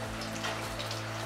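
Steady rain falls outdoors on a building site for a pheasant enclosure, a continuous dense patter of drops on surfaces with no voices.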